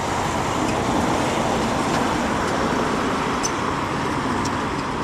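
Truck passing on a dirt road at a construction site for a water recycling facility in Playa del Rey, Los Angeles, a steady loud engine and tire rumble blended with ongoing traffic noise.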